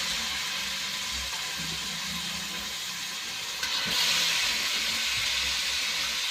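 One kilogram of washed mutton dropped into hot oil for Nati-style mutton saaru, a steady loud broadband sizzle that swells suddenly partway through as the meat hits the pan, with no voices.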